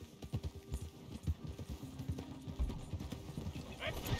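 Horse hooves clip-clop at a steady gallop in the video game Red Dead Redemption 2, a continuous rhythmic thudding under game ambience and a voice talking over it.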